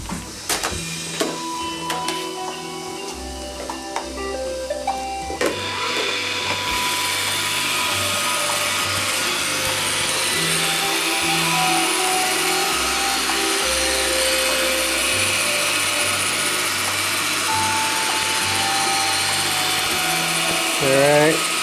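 An iRobot Roomba 535 robot vacuum starting up and running, first a few clicks and mechanical ratcheting, then a steady loud whirring hum with pulsing low motor tones for the rest of the clip.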